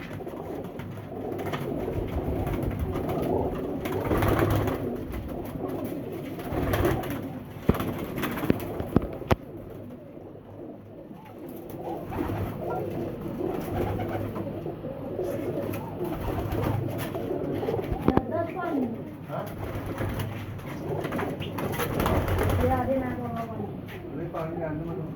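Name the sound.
Sialkoti pigeons cooing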